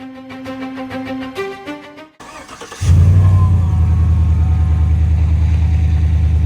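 After a short burst of music, a 2018 Chevrolet Tahoe engine with its muffler removed cranks and roars to life, settling into a loud, rough, throaty idle that rumbles steadily.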